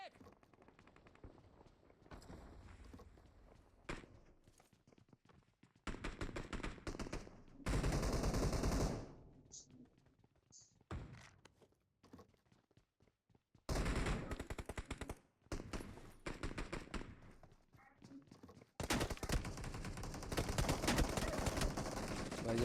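Bursts of automatic gunfire and single shots in a shooting video game, loud rapid volleys alternating with quieter gaps, several long sustained streams of fire across the span, with occasional footsteps.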